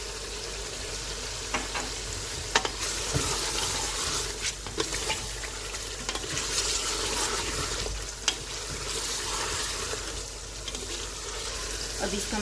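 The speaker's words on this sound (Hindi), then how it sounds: "अब मसाले को हम इतना अच्छा भूनेंगे कोई प्याज भी नज़र ना आए और इसी तरह से इसको भूनते रहेंगे।" Mutton nihari masala of onions and spices fries in a pot, a continuous sizzle broken by scattered clicks and scrapes of a spoon as it is stirred, with faint background noise.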